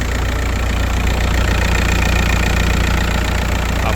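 An Audi A6 C5 engine idles, a loud, steady and even running drone heard up close, alone, with no voices.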